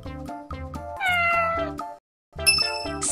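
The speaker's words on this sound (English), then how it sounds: "C is for cat." A single cat meow rises and falls over a bouncy, upbeat musical backing, followed by a brief pause and bright chiming notes.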